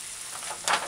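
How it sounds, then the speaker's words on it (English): Spoonfuls of okra and codfish fritter dough drop into hot oil, a soft sizzle that swells into a brief, brighter hiss near the end. "Lift and drop a spoon of your okra fish fritters dough in your eating oil."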